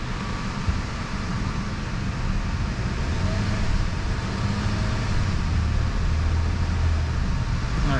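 Audi A3 engine running on an all-wheel-drive hub dyno, a steady loud broadband drone with a low rumble that holds at a constant level throughout, no distinct rev peaks standing out.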